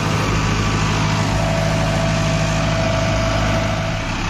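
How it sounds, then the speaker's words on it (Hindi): A Novo 655 tractor pulling a 9-foot Parm rotavator in field work, its engine running in a steady, loud, continuous drone with a low hum and no talk over it. "तो दूसरे के लो में ट्रैक्टर चल रहा है"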